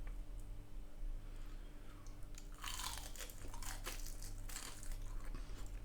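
Crunchy battered katsu from a Blue Dragon katsu curry kit bitten into, giving a run of loud, close crisp crunches and chewing over a steady low background hum.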